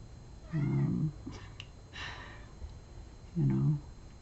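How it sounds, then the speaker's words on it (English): A cat meows twice, a short meow near the start and another near the end, with quiet breathy sounds and faint background noise between. "that's my little kitty in the back, as you can hear her"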